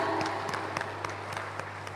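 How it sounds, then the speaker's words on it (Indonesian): Audience applause at a public debate between candidates for regent and deputy regent of Buru Selatan, a steady moderate wash of clapping over a constant low hum, with a few sharper claps standing out. "Mari beri tepuk tangan yang meriah"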